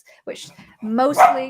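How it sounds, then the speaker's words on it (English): A pet dog barking and yipping indoors, a short sharp bark followed by a longer whining bark, close and loud, overlapping a person talking. "Excuse my dog."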